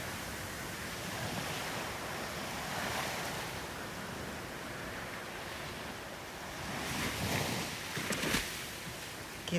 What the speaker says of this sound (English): Waves are crashing beautifully.